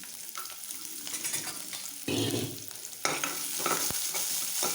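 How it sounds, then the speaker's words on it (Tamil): Garlic sizzles and crackles in oil with cumin seeds in a pan as it is stirred, with scraping and brief bursts of louder frying, close by. "பூண்டு நல்லா கொஞ்சம் வதங்கட்டும்."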